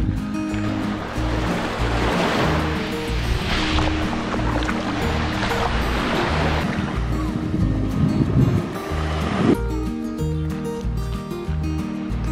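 Black Sea waves wash onto a beach on the Ukrainian coast, swelling and hissing in surges before easing, with a steady low hum running underneath.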